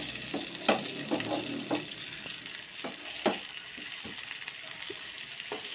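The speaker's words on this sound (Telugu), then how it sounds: "ఫిష్ ఫ్రై రెడీ అయిపోతుంది. అటువైపు కొంచెం వేగాలి." Fish frying in a pan, a continuous close hiss of hot oil with occasional spatula taps and stirring knocks, steady and moderately loud with no talk.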